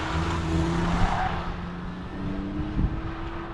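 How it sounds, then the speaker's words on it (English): Blue Honda Civic on an autocross course, engine droning loud and near with tire squeal through the turns, revs rising and easing between cone sections. "Here we are with a Honda Civic in beautiful blue."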